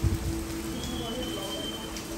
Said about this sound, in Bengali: আগের দিন রাত থেকে পরের সারা দিন সারা রাত ঝড় বৃষ্টি,